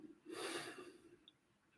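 One soft, slow inhaled breath taken during a guided meditation session, faint and close, rising and then trailing off into near-silence.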